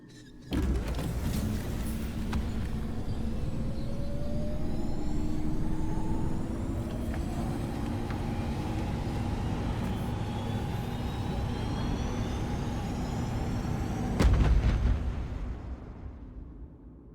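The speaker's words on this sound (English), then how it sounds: "Against all odds, the unreliable takes flight." In The Outer Worlds game, the spaceship Unreliable takes flight with a sudden thump, then a sustained low roar and a slowly rising whine, ending in a louder burst before fading.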